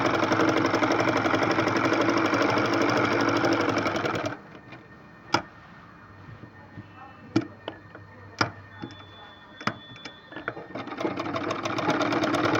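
A sewing machine stitches a suit neckline in a steady close whirring run, then stops, leaving scattered clicks and knocks before the motor starts again.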